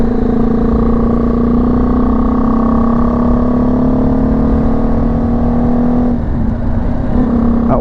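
A BMW G310 GS motorcycle engine drones loud and steady close by while riding, its pitch rising slowly, then a brief dip near the end as gears shift.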